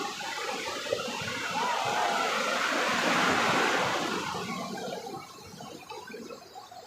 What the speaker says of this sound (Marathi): समुद्राच्या लाटा एकदम आज तर जोरातच येत आहे समुद्राच्या लाटा